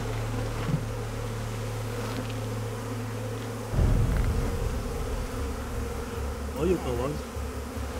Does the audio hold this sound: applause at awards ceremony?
no